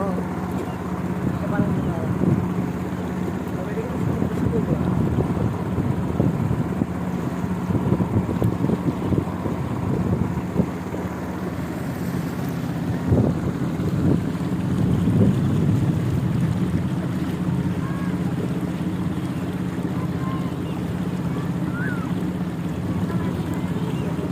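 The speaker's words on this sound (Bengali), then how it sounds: "সাঙ্গু নদীতে ট্রলার নিয়ে যাচ্ছি গভীরে, দেখা যাক কত দূর যাওয়া যায় বেড়ানোর জন্য।" A motor trawler travels on the Sangu river between hills, its steady engine drone and water rush running continuously with wind buffeting the microphone throughout.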